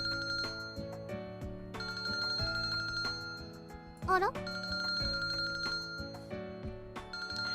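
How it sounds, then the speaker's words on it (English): A phone ringtone in the visual novel Kinkoi: Golden Loveriche plays a bright, looping electronic melody throughout, with a brief spoken exclamation over it partway through. "My phone rang."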